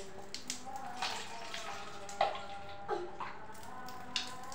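Water splashes and pours over a small child during a bath, a few soft watery bursts and drips at close range under faint background noise, with an adult voice coaxing in between.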